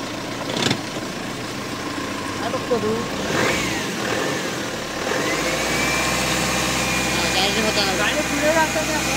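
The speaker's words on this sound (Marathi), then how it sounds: "गाडी चालू झाली आहे बघू आता" A friend's car that had broken down is running again, with a steady low engine hum that settles into a continuous idle in the second half. People talk over it throughout.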